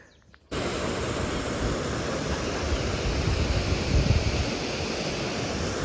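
Birthi Falls in Munsiyari roars as a steady, loud wash of rushing water that starts abruptly and continues without a break.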